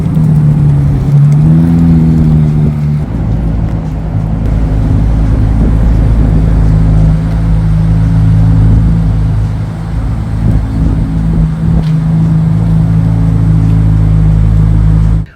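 A 2023 Chevrolet Corvette C8 Z06 engine rumbles loud and close, with a short rising rev near the start before settling into a steady, deep drone. No one speaks.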